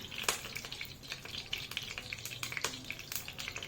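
Cinnamon and cardamom sizzle in hot oil with a soft, close crackle, punctuated by sharp spattering pops and light stirring.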